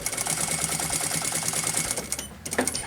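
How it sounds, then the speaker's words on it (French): Sewing machine stitching around fabric coasters made from scraps, a steady rapid mechanical chatter close by and continuous for nearly the whole stretch, briefly easing near the end before resuming. "je vais venir coudre tout le tour pour être à 1/2 pouce"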